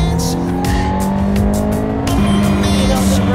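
Race car engine pulling hard on a track, a loud close roar whose pitch steps up through the gears as it accelerates, over about three seconds with no talking.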